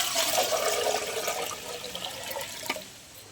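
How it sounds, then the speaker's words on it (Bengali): Water poured into a cooking pot for biryani rice, a faint, steady rushing splash that slowly fades over a few seconds. "হাঁড়িতে দিয়ে দেবো জল।"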